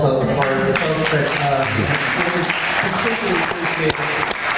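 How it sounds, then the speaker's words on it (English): Conference audience at a fundraising meeting breaks into sustained applause, a dense wash of clapping from many hands at steady volume, with voices talking over it. "another round of applause also for the folks"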